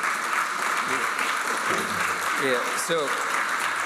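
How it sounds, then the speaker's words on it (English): A crowd applauds local farmers in a dense, continuous burst of clapping. A voice speaks briefly over the noise near the end. "I also want to have another round of applause for our farmers here."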